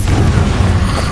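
A Confringo fire spell bursts in Hogwarts Legacy during a duel, a short, loud, booming explosion with a rumbling low-end roar that fills the moment.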